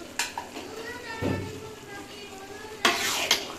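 A spoon stirs coriander leaves from a home-grown plant into a sizzling dish in a pan, with scraping strokes and clinks against the metal and a soft frying hiss underneath.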